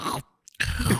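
A voice mimics a child crunching a cookie as heard over a baby monitor: a close, gritty burst of mouth noise, a brief silence with a small click, then another crunchy burst.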